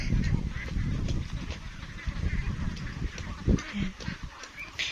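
A flock of ducks about two and a half months old honking and quacking nearby, a steady chorus of calls with a few sharper bursts toward the end.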